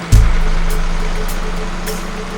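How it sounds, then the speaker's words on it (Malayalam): A lorry drives past, its heavy engine producing a loud, close, steady low rumble that holds for the whole stretch, with no talking. "ലോറി പോകുന്ന കണ്ടില്ലേ?"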